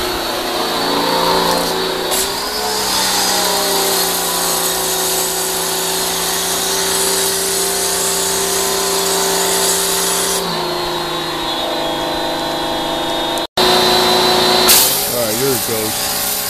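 A hot water pressure washer runs with a steady loud mechanical drone and hiss that shifts in pitch a few times, someone speaking over it.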